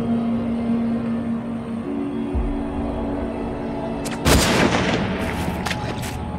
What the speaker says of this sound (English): I sort of feel like the shots are coming from different directions